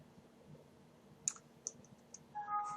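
A computer mouse clicks a few times in quick, sharp, close succession during a spreadsheet data exercise, followed by a brief soft tone, with no talking over it.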